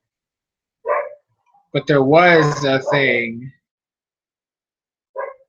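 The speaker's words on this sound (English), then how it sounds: "That's my dog being a pain in my ass." A pet dog barks a few times in a room, with short sharp bursts and a longer run of barking in the middle, loud and close, alone without talk.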